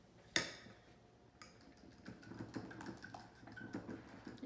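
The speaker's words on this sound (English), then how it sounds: "Yeah, just whisk it together." Whisking an egg mixture with gruyere and aged cheddar in a bowl: after a sharp clink, a steady run of quick light metallic ticks against the bowl, close and fairly faint.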